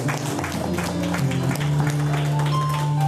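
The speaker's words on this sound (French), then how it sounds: "Acclamons très fort cette parole." Church congregation applauding loudly and steadily, a dense wash of clapping with crowd noise and sustained musical tones underneath.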